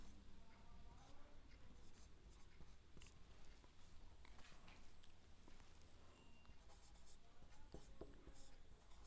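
Someone writes on a board during a Hindi grammar class, producing faint, scratchy strokes and taps that come in uneven bursts against a low room hum, quiet and close.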